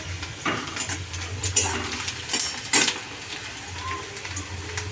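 Onions frying in a pan in a home kitchen, with a low steady sizzle under scattered clinks and scrapes of a spoon against the pan.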